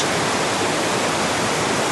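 Streams flow through limestone country below a gorge in the Jura in autumn, a steady loud broadband rush of water with no break and no voices.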